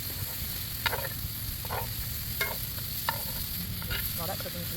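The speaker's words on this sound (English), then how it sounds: "Here's the skillet on for you. Move that meat around a little bit." Meat fries in a skillet over an outdoor campfire: a continuous sizzling hiss sits over a low rumbling background, with a few faint clicks and no voices.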